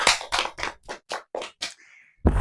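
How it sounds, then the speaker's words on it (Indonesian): A classroom gives applause for a student named Sri, about eight distinct, evenly spaced claps, close and crisp, with a short pause before a final clap. "Kasih aplaus untuk Sri."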